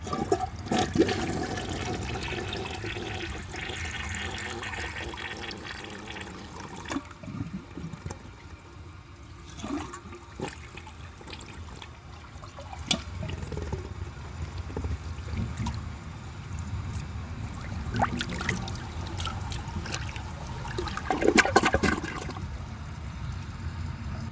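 A 1982 American Standard toilet with a 3.5 gallon tank on a 5 gallon bowl flushes incompletely, a long rushing swirl of water that gurgles, sputters and slowly refills alone for over twenty seconds.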